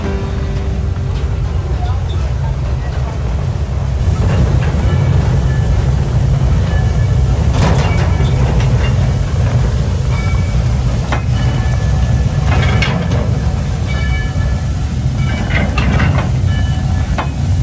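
A train rumbling along the rails nearby, with a steady low roar, hissing, and occasional metallic clanks and squeals throughout.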